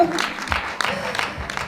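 An audience applauds at a kindergarten awards ceremony, a steady patter of clapping from a crowd that stays moderately loud throughout the short stretch.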